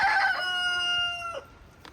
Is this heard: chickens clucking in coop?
yes